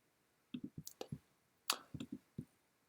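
Computer mouse clicks while creating a new Swift file, short crisp taps in two quick bursts of several clicks each, close and quiet with no voice over them.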